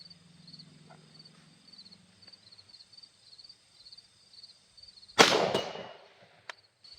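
The ambidextrous charging handle of a Springfield Armory VHS-2 Hellion rifle is pulled fully back and let go, giving one sudden, loud metallic clack with a short rattling tail after several seconds of near silence.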